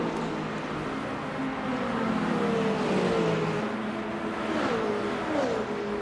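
Race cars in the Le Mans Ultimate racing game overtaking Corvettes and a Ferrari, engines droning and revving steadily at mid distance, with rising and falling pitch as the cars pass.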